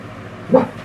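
A single short bark from a dog indoors, fairly close and clear, rising briefly out of a quiet room.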